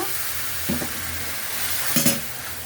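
Gentle sizzle of spices frying in a pan with brief stirring scrapes, a soft steady hiss in a quiet kitchen, no voices.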